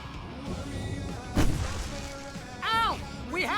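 Gunfire and booms ring out in the Alan Wake Remastered video game, a single heavy shot standing out over a dense background of action noise, followed by a couple of shouted voices.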